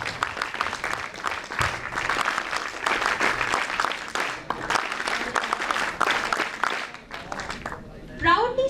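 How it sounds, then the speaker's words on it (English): A large audience at a National Integration Camp inauguration at NSUT Delhi claps for the NSS contingent from Punjab, producing sustained dense applause that fades briefly near the end before a short burst of voice. "Huge round of applause for NSS contingent from Punjab."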